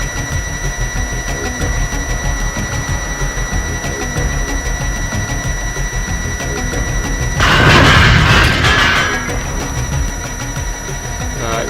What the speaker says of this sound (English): the barrel of poison gas is leaking, now it's blown up